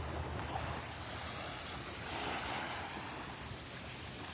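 Ocean waves wash ashore on a Florida beach at Delnor-Wiggins Pass in North Naples on a morning, a soft, steady surf roar mixed with light wind noise, with no talking.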